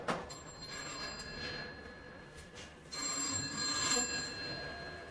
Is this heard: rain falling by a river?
no